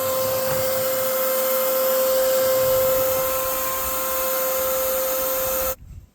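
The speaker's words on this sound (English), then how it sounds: "Okay, so I vacuumed it out." A vacuum cleaner sucks cobwebs, ladybugs and bug nests out of a light fixture box. It gives a loud, steady whine with a sharp tonal hum that runs close and unbroken for about six seconds, then cuts off abruptly.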